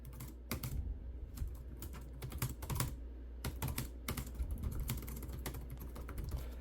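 Typing on the keyboard of a budget Ryzen 5 laptop under 300: rapid, uneven clatter of light plastic keystrokes, close and clear, continuing for several seconds without speech.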